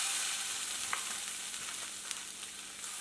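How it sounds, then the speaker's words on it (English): Salmon fillets sizzle quietly in a hot frying pan without oil over medium-low heat, a soft, steady crackle with occasional small pops, faint and alone. "Let's cook the salmon first. Heat the frying pan, but you don't need any oil because salmon has got lots of oil."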